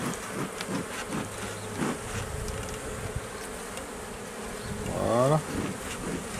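Gentle honey bees buzzing steadily around an opened hive during an inspection, a dense close swarm hum with a brief low voice over it.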